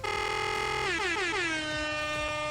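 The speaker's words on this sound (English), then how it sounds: "Give me air horn." A loud air horn sound effect blares continuously for over two seconds, its tone bending downward and wavering partway through as if glitching, with no talking over it.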